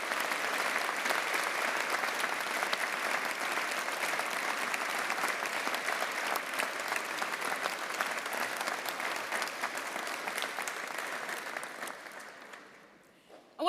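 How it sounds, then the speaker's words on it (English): A graduation ceremony audience applauds friends and family in a long, dense, steady burst of many hands clapping that fades out near the end. "please join me now in a round of applause for your friends and family who are here today"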